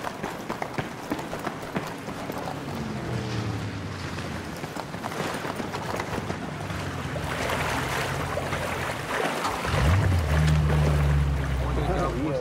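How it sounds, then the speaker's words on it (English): A loud motorboat engine in the video game Battlefield 3 drones steadily with splashing water, while voices chatter over it; the engine revs up noticeably toward the end. "the motor is too loud. I'm gonna get on the boat. Yeah, the boat is very loud."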